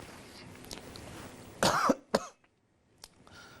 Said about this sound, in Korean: 기침 좀 했습니다.